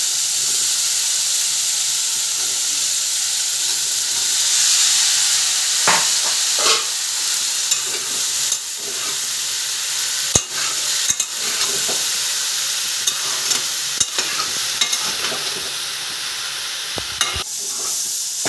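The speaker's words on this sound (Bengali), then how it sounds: "ফুলকপিগুলো ভাজা ভাজা হয়ে এসছে" Cauliflower and potatoes frying in a pan, a steady close sizzle and hiss with scraping stirs and spatula knocks against the pan throughout.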